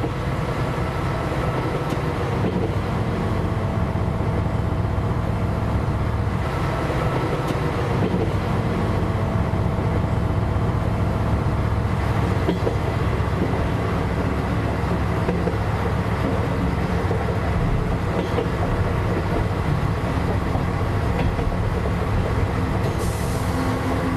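A train running along the track toward a station on the Brive-la-Gaillarde to Aurillac line, a loud continuous rumble and rolling rail noise holding steady for the whole stretch, with no talking.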